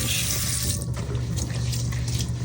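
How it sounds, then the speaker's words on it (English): Running tap water and sink splashing while a Material Kitchen coated pan is washed with warm soapy water and a sponge, a loud, continuous rush of water close by. "Now we're gonna wash this pan. Use some warm soapy water."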